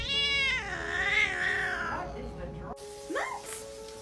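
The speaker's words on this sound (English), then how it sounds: "collection of meows." Several rescue cats meow in turn, long drawn-out wavering cries that rise and fall, loud and close, with a higher, shorter meow near the end.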